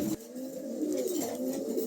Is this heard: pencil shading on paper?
no